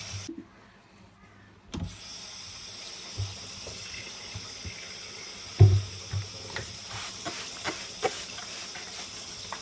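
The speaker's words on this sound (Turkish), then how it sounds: "Şimdi şu bezlerimi bir yıkayayım." A kitchen tap opens after a brief near-silence and runs steadily as cleaning cloths are rinsed under it, with a clunk early on and a few soft knocks and splashes over the continuous flow.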